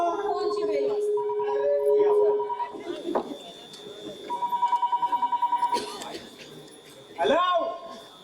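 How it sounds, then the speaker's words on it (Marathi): A telephone rings in a Marathi stage play performed at a Ganesh festival, steady electronic ringing tones in bursts of repeated pulses mixed with voices, stage noise and scattered crowd sound. "आता दारावरची नाही, फोनची वेळ वाजते."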